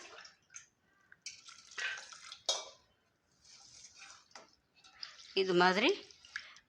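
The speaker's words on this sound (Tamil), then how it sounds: "அதுக்கப்புறம் இதுக்கு தேவையான அளவு தண்ணி ஆட் பண்ண போகிறேன்." Water being poured into sago for upma in a home kitchen, with faint splashing and clinking of a vessel in short bursts between and under a woman's speech.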